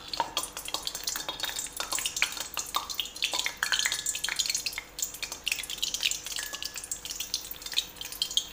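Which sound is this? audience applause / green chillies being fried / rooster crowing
green chillies being fried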